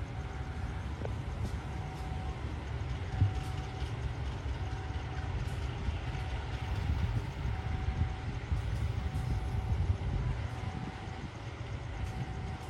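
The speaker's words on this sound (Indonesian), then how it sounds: "Kereta api Ijen Express ini berhenti normal di stasiun Kalisat dan bersilang dengan kereta api Wijaya Kusuma yang harusnya tidak berhenti ya." The Ijen Express train stands at Kalisat station with a steady, loud low rumble of a locomotive engine idling or rolling close by, and a faint tonal hum persists over it.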